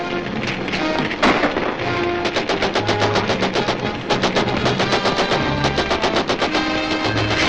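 Rapid gunfire in a 1941 film serial crackles as dense bursts of sharp, close shots, some in quick machine-gun-like runs, with a few heavier thumps mixed in.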